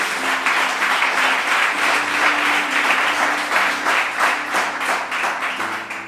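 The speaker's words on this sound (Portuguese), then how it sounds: "Você pode aplaudir ao Senhor aí em nome de Jesus?" A church congregation applauds during a sermon, steady dense clapping from many hands filling the room at a constant loud level throughout, with no speech over it.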